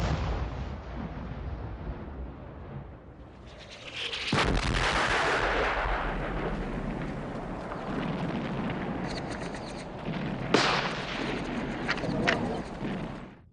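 Heavy booming World War I artillery fire and explosions, including a 40-pounder gun, with loud blasts and sharp cracks over a continuous roar of distant gunfire.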